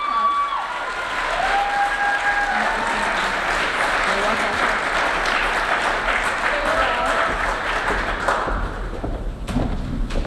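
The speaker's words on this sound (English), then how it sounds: "Let's get another round of applause." Audience applause fills the room at a live talk event, a steady, dense clapping that holds at an even loudness from start to finish, with scattered thumps and a few voices mixed in.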